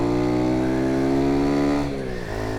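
A modified Honda C90 motorcycle with a 170cc engine revs hard on the throttle in a strong, steady drone, then the note drops and wavers as the revs fall away, loud and close with no talk.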